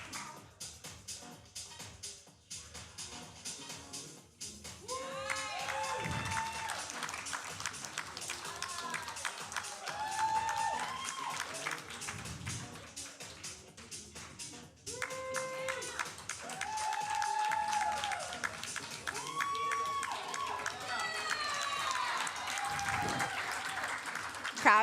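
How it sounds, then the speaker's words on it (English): A crowd at the 2023 INBF Carolina Natural Physique bodybuilding competition applauds and cheers for a long stretch, with claps and whoops rising and falling while a voice speaks over the noise. "Crowd is going crazy."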